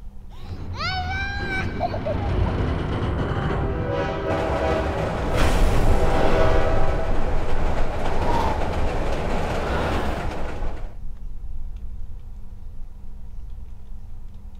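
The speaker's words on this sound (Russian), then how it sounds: "Окей, поезд." A train passes in the horror game Layers of Fear - Inheritance. A wavering horn sounds first, then a loud, rushing rumble of carriages builds, peaks and cuts off, leaving a low hum.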